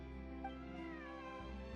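A cat meows in a video game, a clear drawn-out call with steady harmonics over a constant background hum, close and alone with no talk.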